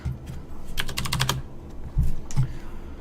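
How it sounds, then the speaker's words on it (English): Rapid clicking keystrokes on a computer keyboard come in bursts during an Age of Empires Online match, with a quick flurry followed by a few separate taps. Soft game sounds play underneath. "He's typing in the chat."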